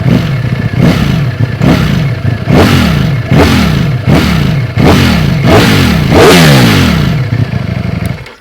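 A Ducati Streetfighter V4 S motorcycle engine revs in short repeated light-throttle bursts, about eight blips in a steady rhythm, loud and close with a deep, drum-like rumbling idle between.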